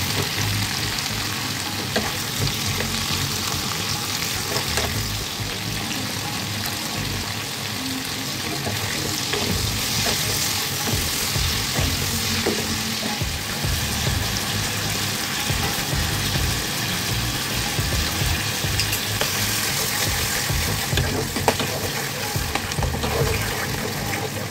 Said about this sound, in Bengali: ঝিঙে চচ্চড়ির জন্য কালো জিরে আর কাঁচা লঙ্কাটাকে আগে একটু ভেজে নিয়ে তারপর ঝিঙেগুলোকে দিয়ে দেব